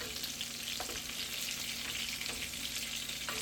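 Bacon sizzling in a pan while being cooked for a double bacon cheeseburger, a steady dense crackle and hiss running throughout with a few faint pops.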